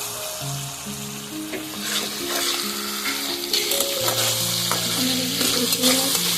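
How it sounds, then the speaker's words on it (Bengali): Spice masala of cumin and coriander powder sautés in oil for an egg and yogurt curry, producing a steady, bright sizzle with light stirring, heard over soft background music. "মশলাটা থেকে কষানো হয়ে গেছে, তেল ছেড়ে দিয়েছি"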